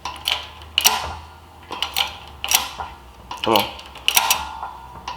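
A wrist pin is pressed out of a piston with a socket, giving a series of sharp, close creaks and metallic clicks in irregular bursts while someone speaks briefly.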